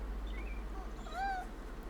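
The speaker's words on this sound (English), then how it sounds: "Could have sworn I kept hearing a cat." A video game cat meows softly a couple of times, thin rising-and-falling cries over a quiet background hum, with no talk over them.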